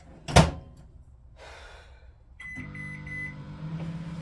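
A microwave oven heating dyed fabric: a sharp door thunk comes first, then a beep, then the steady low hum of the oven running.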